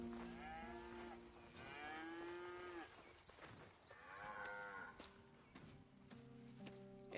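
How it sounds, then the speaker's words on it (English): Dairy cows on a farm moo repeatedly in long, drawn-out calls, several animals overlapping at moderate distance against soft barn background noise. "Here's the cows."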